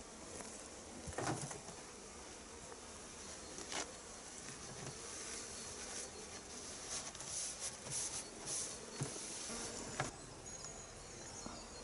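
Honeybees from an opened winter beehive buzz steadily throughout, a dense close hum with individual bees droning past at intervals.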